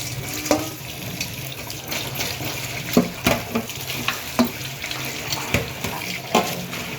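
Tap water runs into a kitchen sink while vegetables are rinsed under it. The splashing is steady and close, with uneven clunks and splatters as the pieces are handled, and no talking.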